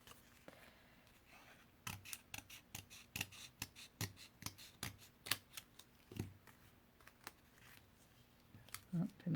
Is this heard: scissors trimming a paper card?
yes